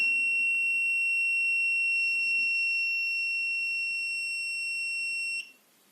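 An AlcoFor-307 professional breathalyzer with an electrochemical sensor sounds a steady, piercing electronic beep after a blow that was too short, holding for about five seconds before cutting off abruptly, alone in a quiet room.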